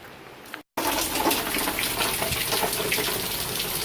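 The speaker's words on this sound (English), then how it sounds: "It's raining a lot. Got puddles." Heavy hurricane rain from Hurricane Irma pours down in a steady, dense wash that stays loud and continuous, briefly cutting out near the start before resuming without pause.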